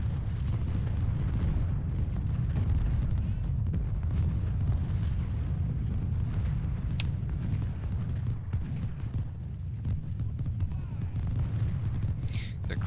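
Civil War battle in Ultimate General: Civil War, with a dense, continuous rumble of massed gunfire and artillery booms and a voice talking over it.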